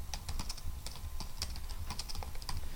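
Rapid clicking of keys on a computer keyboard, a steady run of light taps close by with no talk.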